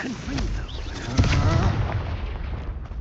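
The Descendo spell, cast in the Hogwarts Legacy video game, lands as a booming, explosive impact with a rumbling low burst amid combat clatter and a voice calling out.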